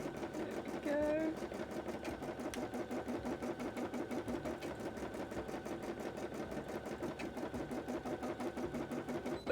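A sewing machine stitches steadily at close range, its rapid needle chatter running continuously through the whole stretch, with a brief higher whir near the start and a voice speaking faintly underneath.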